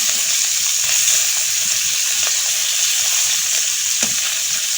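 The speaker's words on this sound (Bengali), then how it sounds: "গরম তেলে আমি মাছটা ভালোভাবে ভেজে নিচ্ছি মাছগুলো" Pieces of fingerling carp frying in hot oil for a potato and fish dish give a loud, steady, close sizzle and crackle, with a few faint utensil taps.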